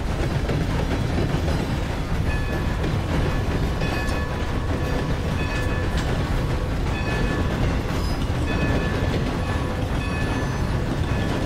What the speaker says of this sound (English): You just fucking hijack a train.